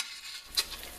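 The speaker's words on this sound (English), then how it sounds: "Got the garlic in there, and we are sizzling." Steady crackling sizzle of garlic frying in hot oil and butter for chicken piccata, with a brief clink of a utensil partway through.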